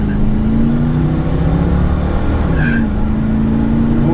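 A Mercury Cougar accelerates in a close, loud steady engine drone that holds a rising tone, briefly dipping partway through before climbing again, with a short high tire squeal near the middle.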